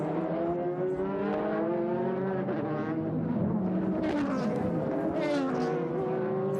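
The Epson Super GT race car driven by Marc Duval screams around Okayama circuit in the 2006 series, its harmonic engine note rising and falling through gear changes as other cars' engines overlap.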